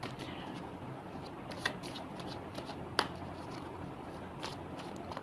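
Tarot cards riffle and rub continuously in steady shuffling, close but soft, with a few sharper snaps and flicks scattered through and no voice over them.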